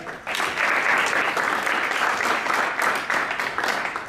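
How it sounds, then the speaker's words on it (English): An audience at a business school innovation contest applauds a competing team, loud, dense clapping that starts abruptly and holds steady for several seconds. "Let's give one more round of applause for Chipaway."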